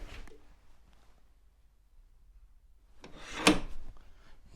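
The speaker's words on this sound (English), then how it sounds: "knock this out with a knockout bar." A wooden knockout bar knocks out a lathe's Morse taper fitting, giving one dull woody knock with a brief scrape in a quiet workshop, preceded by faint rubbing.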